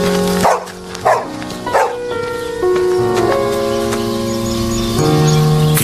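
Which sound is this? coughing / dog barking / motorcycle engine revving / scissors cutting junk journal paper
dog barking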